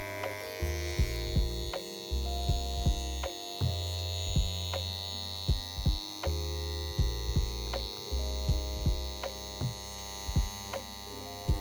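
A tattoo machine fitted with a 13 soft edge Magnum needle runs with a close, steady electric hum and a regular pattern of light ticking strokes throughout.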